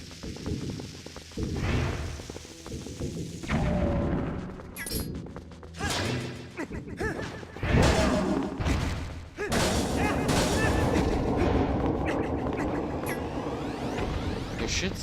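An explosion from the player's own bomb in Zelda: Twilight Princess HD, a heavy thud and crash amid busy game clatter and impacts, with loud bursts spread through the stretch.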